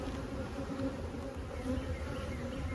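Honey bees from an aggressive hive make a dense continuous buzz, close and steady throughout, with no talk over it.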